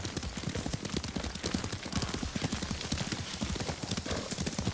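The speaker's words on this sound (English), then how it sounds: "Lord Sakai taught me to ride a horse." Rapid, steady hoofbeats clopping close by throughout, a horse trotting along at a brisk, even rhythm in the video game Ghost of Tsushima.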